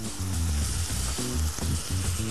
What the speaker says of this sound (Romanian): După ce s-a prăjit puțin puiul, adăugăm ceapă